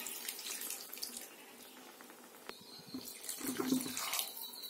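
Tap water runs into a mixer jar, a steady splashing flow that swells louder toward the end, with no voices.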